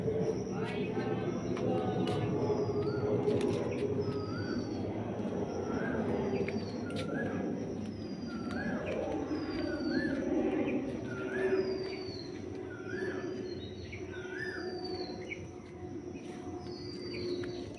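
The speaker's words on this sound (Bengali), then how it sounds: "কোকিল ডাকছে।" An Asian koel calls repeatedly in the distance, its rising notes recurring through a steady outdoor background with other birds chirping and some low rumble; faint and intermittent rather than prominent.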